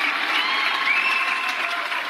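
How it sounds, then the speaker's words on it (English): Applause for healthcare workers from sidewalks, windows and balconies in big cities, a steady wash of distant clapping and cheering, with a whistle heard briefly. "with deafening applause"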